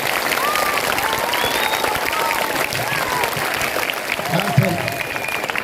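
An audience claps steadily at a Pongal celebration, a dense, continuous wash of applause from a crowd indoors, with a voice talking over it throughout.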